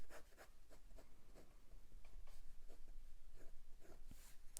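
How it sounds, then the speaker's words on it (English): A wet fine-nib fountain pen writing on paper, giving soft, faint scratchy strokes in an irregular rhythm, close and quiet with no talking. "a wet writing pen, which I flip and love"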